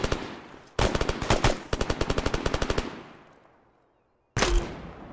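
Enemy gunfire in the Arma 3 video game during a night co-op battle: rapid automatic bursts rattle out close and loud, a pause lets the last echo fade, and another burst breaks in near the end.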